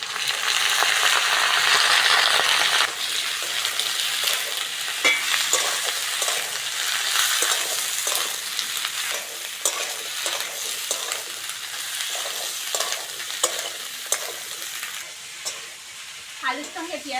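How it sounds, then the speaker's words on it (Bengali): Potatoes with onion stalks fry loudly in a pan, giving a dense continuous sizzle and a steady run of spatula stirring scrapes and taps, close up, with no speech. "আলুর সঙ্গে পেঁয়াজ কালিটাও ভালো করে ভেজে নেব।"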